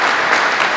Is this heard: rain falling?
no